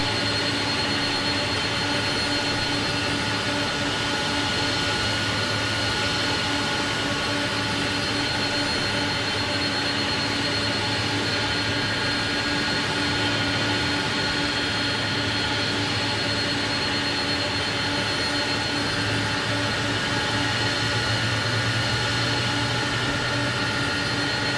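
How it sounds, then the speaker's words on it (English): Airbus A300-600F jet engine spooling up in Microsoft Flight Simulator 2020, a steady loud roar with sustained whining tones held throughout, no talk. "Right, engine 1 is open. Let's turn the engine 1 fuel on. Let's listen to that."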